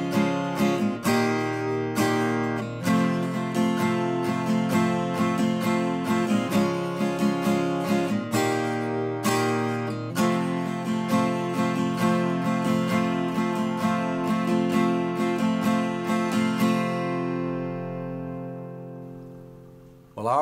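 Acoustic guitar strumming the chords of a song, steady rhythmic downstrokes with ringing chords throughout, close and clear with no talking, fading out as the last chord rings at the end.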